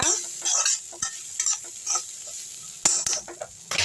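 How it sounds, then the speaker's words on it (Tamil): Masala ingredients for hotel-style chana masala are sautéed in a pan, giving bursts of sizzling and scraping stirring strokes in an uneven rhythm, close and moderately loud, with no talking. "நான் வதக்கிட்டு காட்டுறேன் நல்லா வதக்கி விட்டுங்க"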